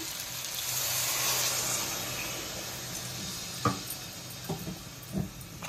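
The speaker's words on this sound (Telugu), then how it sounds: "ఈ టైంలో మనం వాటర్ పోసుకుందాం." Water poured into a pan of goat head curry that's still sizzling, with a steady hissing wash and a few sharp clinks near the end, no voices.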